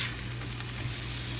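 Bacon strips cut in half sizzling in a frying pan, a steady, soft crackle and hiss throughout at close range.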